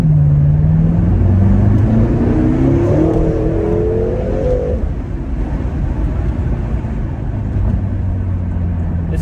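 A BMW F13 M6 rear-wheel-drive sports car revs up hard in second gear with a rising pitch that climbs for several seconds, then settles into a loud steady roar of road and engine noise.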